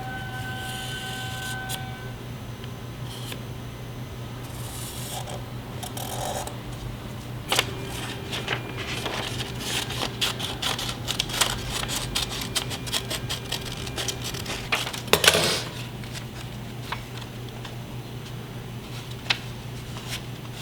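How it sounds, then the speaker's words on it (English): Blade slicing and scraping through car carpet inside a Honda CRX cabin, a run of short sharp cutting strokes and rasps over a steady low hum, with one louder tearing burst near the middle; no talk. "We need to cut open the carpet anyways to slide the cables through."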